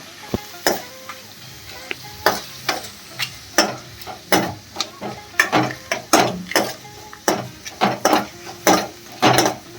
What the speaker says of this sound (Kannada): ಈಗ ನೆಕ್ಸ್ಟ್ ಇದು ಕಟ್ ಮಾಡಿ ಇಟ್ಕೊಂಡಿರೋ ಈರುಳ್ಳಿ ಹಾಕ್ತೀನಿ ಗೈಸ್. ಇದು ಬ್ರೌನ್ ಆಗೋ ಮಟ್ಟ ಚೆನ್ನಾಗಿ ಫ್ರೈ ಮಾಡ್ಕೊಳ್ಳೋಣ ಗೈಸ್.